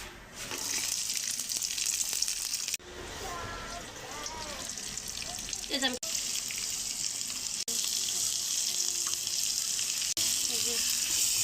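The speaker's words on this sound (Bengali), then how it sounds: "কাঁচামরিচ দিলাম, রসুন দিলাম, এখন চিংড়ি মাছটা দিয়ে দিলাম" Shrimp sizzling in a hot pan with green chilies and garlic, a steady frying hiss that runs throughout with a few brief clatters, while a voice talks over it partway through.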